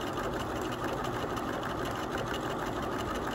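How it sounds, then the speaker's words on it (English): A sewing machine runs a basting stitch attaching interfacing to a waistband, a steady rapid mechanical whirr and needle chatter that holds evenly throughout at moderate loudness with no talking. "you can baste it or you can do regular stitching, it doesn't matter, but I figure basting is faster"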